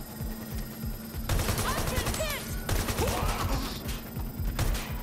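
Gunfire bursts in the Watch Dogs: Legion video game, rapid repeated shots crackling close and loud for several seconds over a steady electronic hum, with brief swooshing effects mixed in.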